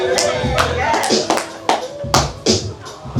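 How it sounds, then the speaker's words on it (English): Lounge audience in Harlem claps for a performer, scattered close claps at an uneven rhythm under someone talking over them. "Keep clapping till she gets up here."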